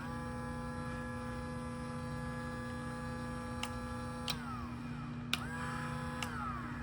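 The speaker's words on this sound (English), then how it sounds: "So we can then control the motor again, going one direction, switching the direction" A small electric motor on a low-budget DIY PLC trainer hums steadily with a tonal whine, broken by a few sharp switching clicks as its running tone shifts and settles again. No voices.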